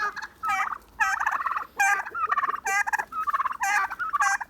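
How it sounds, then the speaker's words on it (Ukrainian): Domestic turkeys gobble repeatedly in rapid, warbling bursts, several overlapping calls close by with brief gaps between them. "Ну що, помилувалися нашими індиками красенями."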